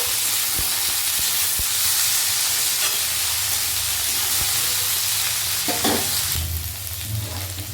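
Sliced kakrol (spiny gourd) is stirred as it fries in a hot pan, a loud, dense sizzle with scraping strokes and a few sharp knocks of the utensil, swelling briefly toward the end.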